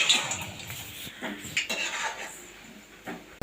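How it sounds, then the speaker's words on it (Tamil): Homemade mutton kola balls being turned over in a frying pan: a utensil clatters and scrapes against the pan in several short knocks, close and fairly loud, over a faint sizzle with no talking. "கோலா உருண்டையை திருப்பி போடலாம்"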